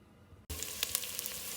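Oil hits a hot pot with a sudden loud burst of sizzling about a third of the way in, then a steady crackling hiss with a few sharp pops as scallion, ginger and garlic fry, with no voices.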